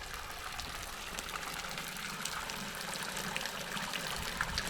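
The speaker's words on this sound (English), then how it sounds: "There's a very interesting water feature here." Water trickles and splashes softly in a modern water feature on the grounds of a Tudor-period country house estate, a faint, steady, even flow with no voices.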